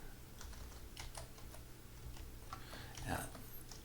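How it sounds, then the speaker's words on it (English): Faint, close keystrokes tap on a computer keyboard in an irregular run of clicks over a low background hum. "I'm going to go ahead and type the"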